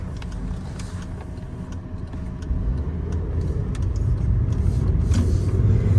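Steady road rumble and engine drone from a Honda Civic Si with 100,000 miles as it drives and brakes on a road, growing slightly louder partway through, with no one talking.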